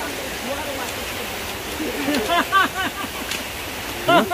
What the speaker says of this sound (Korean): 물소리가 그냥 사방에서 들리니까